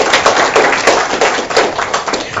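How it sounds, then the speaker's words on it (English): A meeting audience at a disability advisory committee applauds the sign language interpreters, with dense, steady clapping that carries through the whole moment without pause. "if you all could give them a round of applause"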